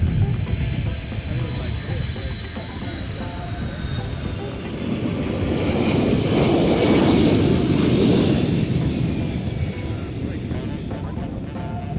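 A KC-135 Stratotanker jet at an airshow in London, Ontario rolls down the runway for takeoff, a broad steady roar that swells toward the middle and then eases, heard from a distance with talk over it.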